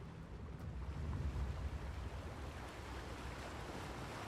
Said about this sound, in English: The water has to flow this way.